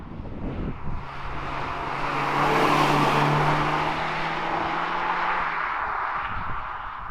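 A Mazda MX-5 NC (Mark III) engine revs up into a loud, rising mechanical roar, holding steady near the peak before slowly fading away, with no talk over it.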